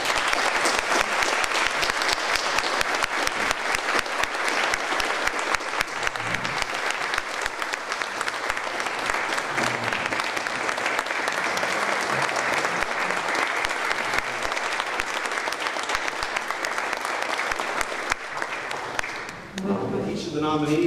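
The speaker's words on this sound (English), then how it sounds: "Let's give them one more round of applause." An audience at a high school teacher of the year ceremony gives long, sustained applause, dense and loud throughout, with voices emerging as it dies down at the end.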